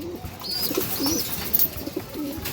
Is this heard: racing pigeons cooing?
yes